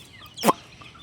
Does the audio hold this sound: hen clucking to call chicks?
yes